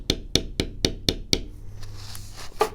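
Six sharp, evenly spaced mallet strikes on a leather beveling tool ring out close and clear while tooling a leather card wallet, followed by quieter scraping and handling sounds.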